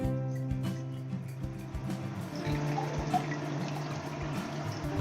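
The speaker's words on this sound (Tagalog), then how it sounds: "Lalagyan ulit natin ng malinis na tubig." Clean water poured into a cooking pot holding beef bones and meat for pho broth, a continuous close splashing fill with faint clinks, alone without talk.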